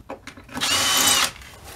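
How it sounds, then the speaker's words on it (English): A power drill bores through a stucco wall during moisture testing, a short loud burst of whining drilling that rises sharply, holds for about a second, then cuts off, with faint handling clicks before and after. "In some cases, we'll drill through the stucco and we can't even feel any effect at all underneath."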